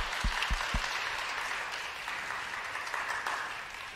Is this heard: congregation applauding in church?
yes